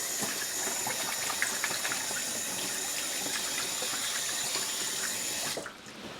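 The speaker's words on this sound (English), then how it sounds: "I'm going to wash my hands quickly" Hands being washed under a running tap in an off-grid kitchen, a steady close hiss of flowing water into a sink for several seconds before it is turned off near the end.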